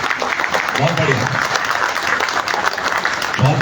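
Applause from a crowd at a Haryana political party gathering, steady dense clapping with a voice speaking over it.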